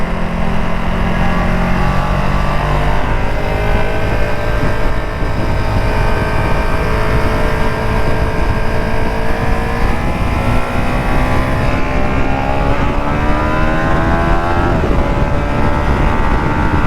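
Ducati Streetfighter V2 motorcycle, about 153 horsepower, ridden on the road, its engine droning loud and close throughout with rising and falling revs and constant wind rush.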